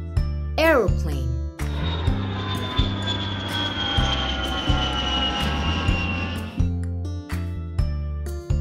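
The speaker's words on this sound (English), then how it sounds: "Aeroplane." An aeroplane flies overhead, its steady engine drone and rising whine holding for several seconds. A voice repeatedly names it over tinkling background music with a pulsing beat.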